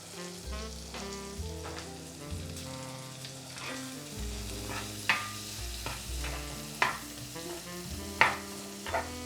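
Tomatoes sautéing in salted butter in a pan, a steady close sizzle and bubbling with occasional sharp pops and spatters, no talking.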